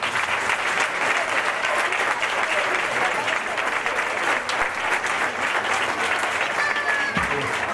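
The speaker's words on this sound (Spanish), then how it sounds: "Un aplauso, por favor." A crowd at a band gathering in a village museum claps steadily and densely for the band director, sustained applause filling the room for several seconds with faint voices beneath.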